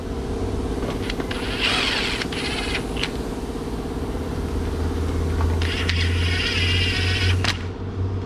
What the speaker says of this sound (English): Now I'm free to install the rest of the perimeter bolts and apply torquage to them.